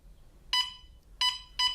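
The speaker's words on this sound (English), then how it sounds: "an alarm sounds warning you to get out" Home gas detector alarm sounding three short, loud electronic beeps, evenly spaced and clear, with nothing else around them.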